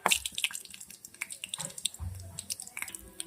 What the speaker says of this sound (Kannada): ಆಯಿಲ್ ಬಿಸಿ ಆಗಿದೆ. ಈಗ ಸಾಸಿವೆ ಹಾಕೊಳ್ಳೋಣ, ಹಾಗೆ ಸ್ವಲ್ಪ ಜೀರಿಗೆ